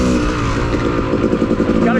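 Two-stroke dirt bike engine running at an off-road trail park, a loud close buzzing drone with slight rises in pitch as it revs, while a person talks over it.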